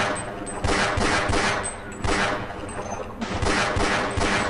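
Pistol fire cracks repeatedly in the Half-Life video game, a fast run of loud, close shots in several bursts with short gaps between them.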